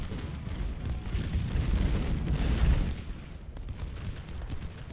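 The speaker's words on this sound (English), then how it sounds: "That canister shot is rough" Canister shot artillery fire in the Civil War strategy game Ultimate General: Civil War rumbles as a low, rolling barrage of overlapping booms and crackling volleys, heavy through the middle and then tapering into a duller distant roar.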